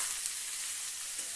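Bottle gourd sizzling in hot oil tempered with dried chili and bay leaf, a steady close hiss of frying that holds evenly throughout, with no voices.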